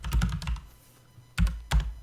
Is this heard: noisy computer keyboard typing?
yes